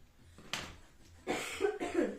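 A person with a lingering cold coughs several times in quick succession, close and fairly loud, the harsh bursts followed by a short throat-clearing sound.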